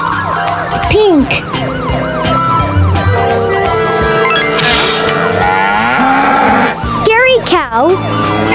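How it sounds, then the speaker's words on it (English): A dairy cow moos in drawn-out, swooping calls, twice, over busy background music and siren-like tones in a children's toy-vehicle learning setting. "Dairy cow."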